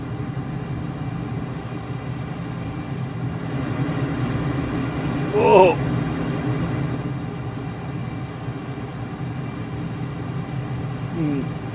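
An F/A-18 jet in Microsoft Flight Simulator 2020 gives a steady, broad engine rumble throughout, with a brief louder burst midway and a short exclamation from a voice over it.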